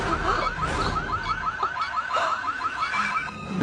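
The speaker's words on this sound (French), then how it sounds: "Si tu n'arrêtes pas cette alarme tout de suite" A loud alarm in an action film sounds nearby as a fast, rapidly repeating warbling wail that holds steady throughout, with no speech over it.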